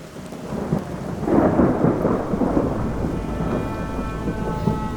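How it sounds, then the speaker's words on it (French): Thunder rolls and rumbles through a rainstorm over Lake Ohrid, a long low swelling boom rising after a second and fading slowly against steady rain. "Ouais, ça tonne bien."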